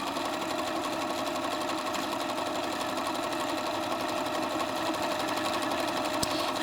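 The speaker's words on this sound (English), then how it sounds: "I never thought a sewing machine would ever be able to write." A White 9800 sewing machine stitches steadily in repeat mode, a continuous close mechanical whir with a fine rapid needle patter holding even throughout, no talking.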